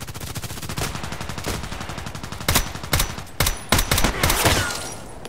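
Sig Sauer MPX gunfire in the Contract Wars video game: rapid bursts of metallic-sounding automatic shots, with sharp louder single reports near the end, over a steady game backdrop.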